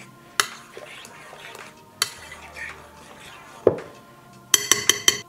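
Spoon clinks and scrapes against a bowl while mango bango is mixed with cheddar cheese, several sharp metallic taps and a quick burst of rapid clinks near the end, over a faint background murmur.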